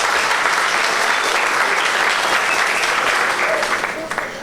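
A large crowd at a political campaign launch applauding steadily and loudly throughout, a dense wash of clapping that begins to thin toward the end.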